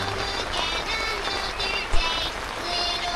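Steady light rain patters softly and evenly throughout at a campsite, with a faint thump near the middle; no one speaks.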